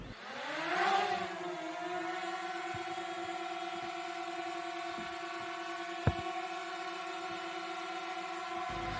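A DJI Mini drone hovers indoors, its propellers giving a steady, close, buzzing whir with stacked tones that rise and settle within the first second, then hold evenly throughout, broken by one sharp tick midway and no talking.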